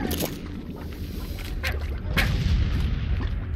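Boom slimes bursting in the Slime Rancher video game, several sharp explosive pops in quick succession over a busy game background, loud and close.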